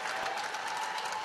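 A basketball crowd at the Badalabine Center roars and applauds after an SIU-E Cougars win over Chicago State, a dense, steady wash of cheering that holds for the whole moment.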